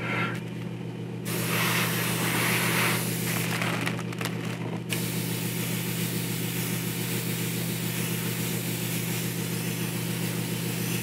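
An airbrush mists a light coat of paint onto a quarter-scale Hulk figure, producing close bursts of airy hiss over a steady low compressor hum, with no talking.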